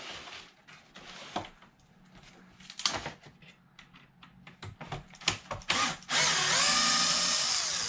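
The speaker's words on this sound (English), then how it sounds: "So it's just 2 bolts here in the rear to get this body completely off." Power tool working the rear body bolts of a Losi LMT RC monster truck, short whirring bursts mixed with handling clicks, then a sustained close whine at the end.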